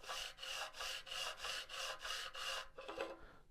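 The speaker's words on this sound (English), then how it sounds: "now you just take your Permagrit and just take a few swipes at it" Eight quick, even abrasive swipes of a Permagrit sharpening tool along an edge, each a close, raspy rub in steady rhythm, followed by a brief softer scrape and a faint trailing sound.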